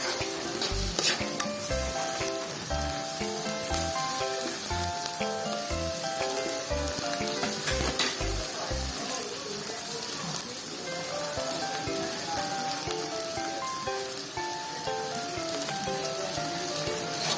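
Tomatoes for Filipino-style corned beef fry in a pan with a steady, close sizzle and occasional stirring, heard alone throughout.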